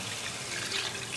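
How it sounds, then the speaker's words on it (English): Water pours steadily into a curry pot of Kashmiri dum aloo mixed with masala and salt, giving a close, continuous splashing rush with no talk. "I'll bring 1 cup water."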